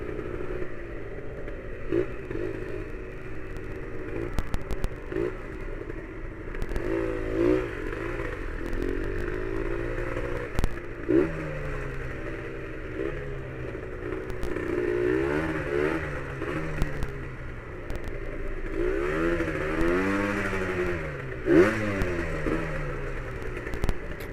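A Kawasaki Victor 150 SE motorcycle engine runs roughly nearby, its loud, steady drone wavering and surging unevenly in pitch, with occasional clattering and mechanical rattles throughout.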